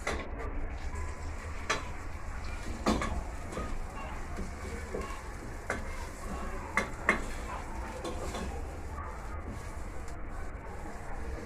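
Onions fry in a good amount of heated cooking oil in a pot while pilau is cooked, giving a steady soft hiss with occasional clinks and ticks and a voice now and then.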